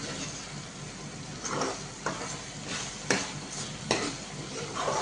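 Onion-tomato masala for chole is stirred and fried in oil, a steady close sizzle punctuated by regular scraping strokes and light knocks of a spoon against the pan, with no voices.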